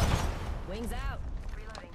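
Video game gunfire: a short, loud burst of rapid shots mixed with in-game voice callouts.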